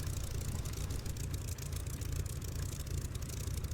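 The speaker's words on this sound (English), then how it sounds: "there's the lovely sound of that engine" Spitfire LF IX piston engine running in the DCS flight simulator, a steady low rumbling drone with a slight throb, constant and fairly quiet throughout.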